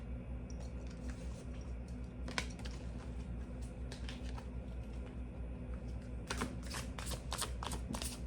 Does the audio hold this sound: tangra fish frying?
no